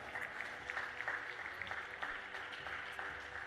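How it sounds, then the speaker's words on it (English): An audience at a school valedictory ceremony applauds, a faint, steady patter of many hands clapping for a few seconds with no speech over it. "let's have a huge round of applause for ma'am"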